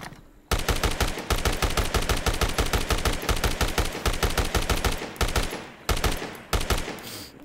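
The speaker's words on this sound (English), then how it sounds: "Cops keep on shooting me" Rapid automatic gunfire from police in the PC game Dead Rising Deluxe Remaster, a loud sustained burst of closely spaced shots with a few brief pauses near the end and no talk.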